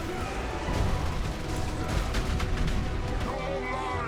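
Explosions in an action video game during a zoomed-in boss fight, a loud and dense run of crashing, crackling blasts that overlap almost continuously for about four seconds.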